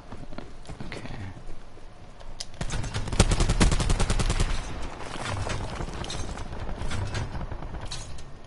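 Rapid M16 rifle fire in a video game, a dense burst of evenly spaced shots rattling out over a few seconds, then lighter intermittent shots and background game noise.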